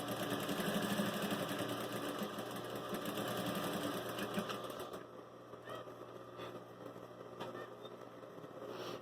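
A sewing machine stitches through a piece of denim, a fast close mechanical chatter running steadily, then slowing into separate bursts and clicks toward the end, with no talk.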